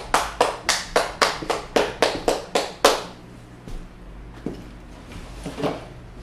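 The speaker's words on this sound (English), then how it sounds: "Let's clap it up for that brother." About ten sharp, evenly spaced claps ring out from an audience applauding a speaker at an ISUPK gathering in Syracuse. They stop abruptly, leaving a few scattered taps and faint room noise.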